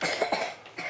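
A few short, close coughs from a child, rapid and breathy, in quick succession.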